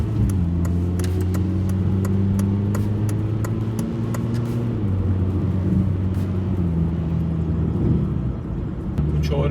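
A car on a highway drives with a steady mid-pitched engine drone and road rumble, the engine note shifting as it speeds up, with people talking over it inside the cabin.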